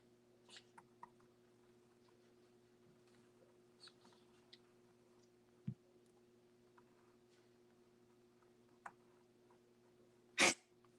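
A puppy's single sharp, brief sneeze near the end, preceded by faint scattered clicks and a low steady hum in an otherwise quiet room.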